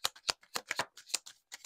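Tarot cards are shuffled by hand close up, a quick series of about a dozen crisp riffling snaps in an uneven rhythm, with no talking.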